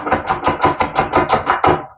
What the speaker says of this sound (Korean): 이렇게 정리를 하신 다음에 칼질을 해주시면 이게 낮아지잖아요 이렇게 낮아지니까 칼질이 더 쉽습니다